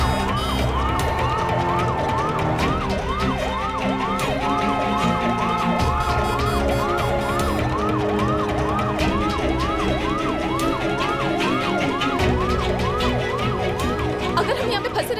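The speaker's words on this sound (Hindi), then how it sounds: "इस एम्बुलेंस को निकालने में सिर्फ 5-10 मिनट ही लगेंगे।" An ambulance siren wails in a steady, repeating rise-and-fall pattern over heavy traffic, loud and close, holding the whole time with busy street rumble underneath.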